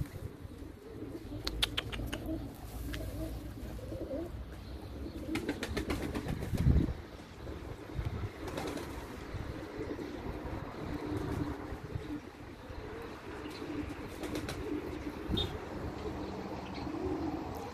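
Pigeons cooing softly at a rooftop loft, low repeated coos with scattered chirps and light clatter, close and fairly quiet, no talk.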